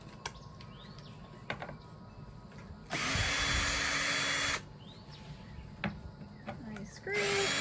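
Two short bursts of a power drill driving screws into a metal garland wreath form, loud and close, separated by a quiet room with faint birdsong.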